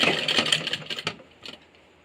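Sewing machine stitching a Patiala salwar rattles in a quick burst of close, clattering stitches, then slows to a few fainter taps before stopping.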